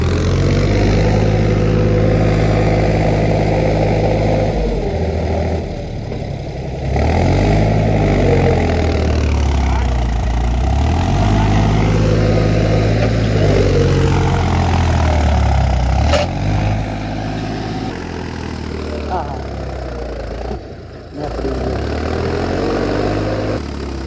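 A tractor loaded with potato sacks, stuck in a field, runs its engine continuously and close by, the droning note rising and falling as it revs, with a brief drop near the end.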